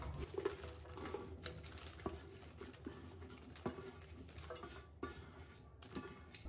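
Eight to ten sliced onions drop onto mutton in a large kadhai, making a soft, quiet patter of small pieces landing with light clatters against the metal pan, no voices.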